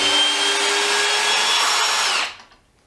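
A Milwaukee M18 BLPD cordless drill driver in screwdriving mode whirs at steady speed for about two seconds, then winds down and stops, leaving near silence.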